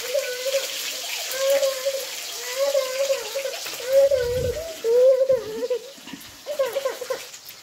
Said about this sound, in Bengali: আমি চালটা এবার ধুয়ে নেব